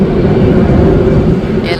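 A Cebu Pacific airplane roars loud and steady overhead near a Manila mall parking area, a dense continuous engine drone.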